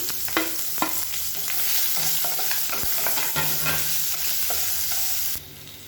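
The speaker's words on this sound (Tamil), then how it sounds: "2 சின்ன வெங்காயம் பொடியாக நறுக்குனதை சேர்த்து வதக்கிக்கலாம்." Chopped shallots sautéing with urad dal and curry leaves in hot oil for a spicy garlic chutney, a steady close sizzle broken by repeated clinks and scrapes of a stirring spoon, cutting off abruptly near the end.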